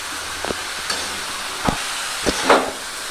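Shredded cabbage frying with spices in a pan, a continuous hiss of sizzling under a few sharp scrapes and knocks of a spatula as it is stirred, no voices.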